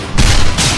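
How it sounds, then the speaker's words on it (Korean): Shadower's Assassinate skill in MapleStory, two broad whooshing bursts of noise in quick succession, each with a low thump beneath, loud and close with no voice. "암살을 쓰고 소리를 들으면 쓰쓰쓰 같이 팔을 휘두르는 소리 다음에 쿵 하고 뭔가 터지는 파열음이 들립니다."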